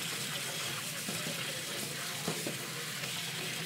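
Water gushes steadily from a kitchen tap over soba noodles being rinsed and strained, a continuous close splashing rush without pause.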